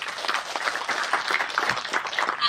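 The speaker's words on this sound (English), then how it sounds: "with a huge round of applause, please join me in inviting our first panelist for the day" A crowd at a corporate HR panel discussion on employee engagement applauds to welcome the first panelist, a dense, steady patter of many hands clapping at moderate volume for a couple of seconds.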